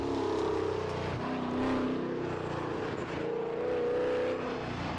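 A race car climbs a hill at full throttle, its engine howling steadily with a brief dip and rise as it shifts gear, loud and close throughout.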